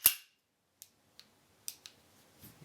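Beretta 87 Cheetah pistol handled with no decocker, giving a sharp metallic snap up close followed by a few lighter clicks and clacks spaced over a couple of seconds, with no talking.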